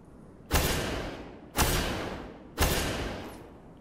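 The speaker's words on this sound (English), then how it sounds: "Now this is the sound of the Thorn." Three heavy, evenly spaced shots from the Thorn exotic hand cannon in the video game Destiny, each a sharp boom trailing into a long fading rumble, heard alone.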